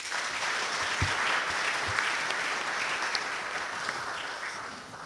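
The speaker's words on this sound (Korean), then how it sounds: "박수해 주시기 바랍니다" Church congregation at a Baptist fellowship gathering clapping in a warm, sustained wash of applause, fairly close and even, with a few sharper claps standing out and a slight fade toward the end.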